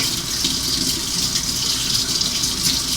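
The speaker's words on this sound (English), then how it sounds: "I'm just going to rinse them off into my sink" Sweet potatoes are rinsed under a kitchen faucet, a loud, steady rush of running water splashing into the sink throughout, with no voices.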